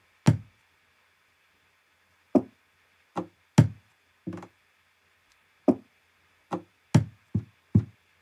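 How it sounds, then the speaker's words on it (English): An acoustic guitar's body is struck by hand to make percussive textures: about ten dry knocks and taps at uneven intervals, some closely paired, over a faint steady hum. "So this is all the textures from the percussive side of the guitar."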